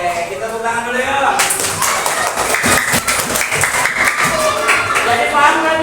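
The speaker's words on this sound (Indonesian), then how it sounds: "kita tepuk tangan dulu ya." Children in a classroom clap their hands together in a fast, steady patter that runs for several seconds, close and loud, while voices chant and talk over it.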